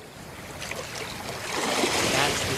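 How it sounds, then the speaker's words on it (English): Ocean waves wash onto a beach in a steady, broad rushing hiss that swells slightly louder toward the end, with no voices. "That's the sound of the waves on the beach."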